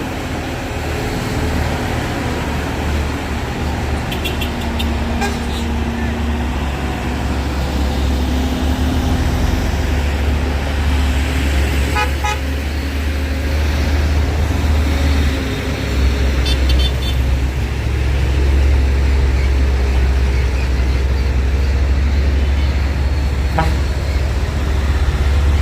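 A Nissan Quester trailer truck on a congested road, its engine rumbling loud and steady throughout amid dense traffic noise, with a few distant horn toots scattered through.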